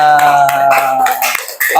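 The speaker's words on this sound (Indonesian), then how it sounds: "Ya, tepuk tangan ke semuanya." A class claps hands at the end of a peer-teaching lesson on Islamic religious education, giving a run of sharp, close claps over a steady tonal hum, with a brief drop near the end.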